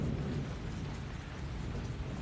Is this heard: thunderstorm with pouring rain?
yes